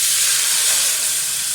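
Rice flour batter for soft kalathappam is poured into a hot, oiled cooker and sizzles with a steady, bright, close hiss that stays loud throughout, with no voices.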